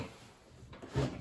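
Doors of a 1/6 scale 1966 Batmobile toy being opened, giving a couple of close, soft plastic clicks and knocks, the firmest near the end, with no talking.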